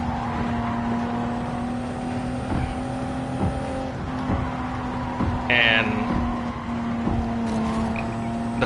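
A GTO twin-turbo car in Gran Turismo 7 taking a chicane at high speed, its engine droning at a steady loud pitch with rhythmic thumps from the kerbs and a brief tire squeal, while someone talks over it.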